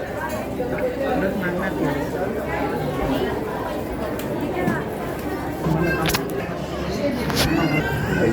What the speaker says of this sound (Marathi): बघू शकता तुम्ही गर्दी